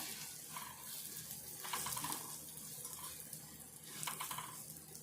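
Bitter gourd fry being stirred in a pan with peanuts and curry leaves, soft scraping strokes over a low, continuous sizzle, faint and close, with a couple of brighter scrapes along the way.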